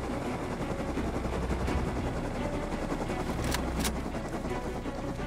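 A helicopter in the survival game Rust keeps up a steady, loud rotor drone for the whole stretch. A pair of sharp cracks, like distant gunfire, rises briefly above it.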